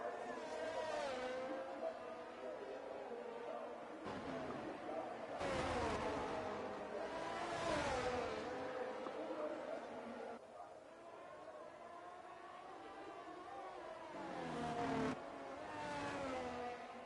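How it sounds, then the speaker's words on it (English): A race car in an online racing game at Zandvoort accelerates away with repeated rising engine revs and gear shifts, moderately loud over faint background talk. "We're just gonna watch Quacker drive off into the distance here."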